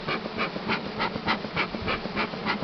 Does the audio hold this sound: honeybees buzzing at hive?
yes